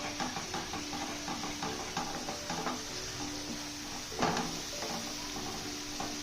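Green peas curry masala sizzles in oily frying in a pan while a spoon stirs it, with scraping strokes and clinks over a constant close-up fry hiss.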